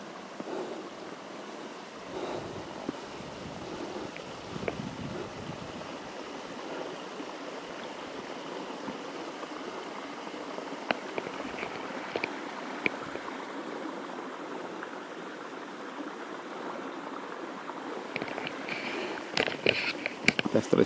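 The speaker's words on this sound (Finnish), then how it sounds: "En edes aluksi tiennyt, että täällä on tämmönen vesiputoussysteemikin." A waterfall system on a UKK hiking trek in 2020 rushes as a steady, broad wash of flowing water that fills the whole stretch, with brief splashy and gusty accents near the end.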